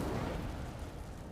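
Incendio fire spell cast in Hogwarts Legacy, a loud, dense burst of roaring flame and crackle that holds steady, then slowly fades over about a second and a half.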